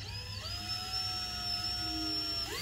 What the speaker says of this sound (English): I obviously need to practice with this new drill.